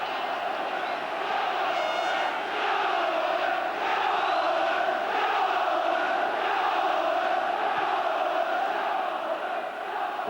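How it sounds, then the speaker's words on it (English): Large football crowd at an FA Cup semi-final between Oldham Athletic and Manchester United, a dense, continuous roar with rising chants and cries, steady and loud throughout with no break. "trying to answer the cries of the crowd"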